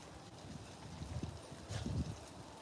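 Gusty wind blows outdoors in a garden, buffeting the microphone with low rumbling bursts that swell and fade, faint and irregular, with no talk over it.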